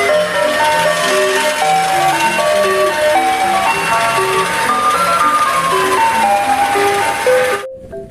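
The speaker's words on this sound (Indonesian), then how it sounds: "Di sini ada mobil es krim." A toy ice cream truck plays its bright, looping electronic jingle of plinking notes, close and continuous for several seconds before cutting off abruptly.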